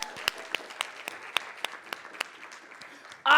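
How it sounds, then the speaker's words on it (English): Audience applause at a live motivational keynote, a scattered pattern of individual claps that starts fairly sparse and thins out, followed by a sudden loud burst at the very end. "give her a hand clap."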